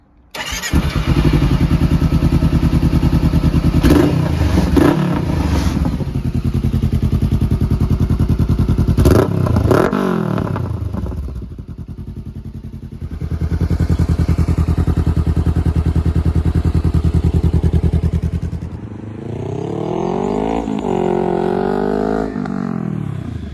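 A 2015 Honda CBR500R motorcycle pulls out on a short test run after a brake fluid flush. Its engine revs rise and fall loudly several times between gear changes, close to the listener, with no talk.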